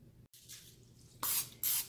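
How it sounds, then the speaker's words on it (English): Cooking spray misted onto the bottoms of baking pans for pumpkin bread, two short hissing bursts close by after a few quieter handling sounds, with a brief silence near the start. "just spray the bottoms well because you want it to slide out"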